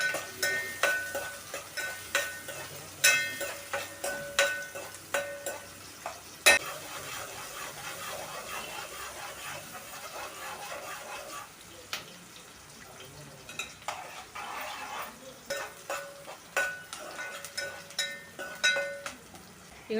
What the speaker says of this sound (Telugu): ఆయిల్ వేసుకోవాలి. ఉల్లిపాయ, పచ్చిమిరకాయలు వేసేసుకుంటున్నానండి.